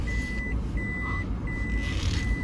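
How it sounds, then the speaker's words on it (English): A truck's reversing alarm beeping in steady, evenly spaced tones over a low engine rumble, fairly close. "Hold up, my truck is backing out."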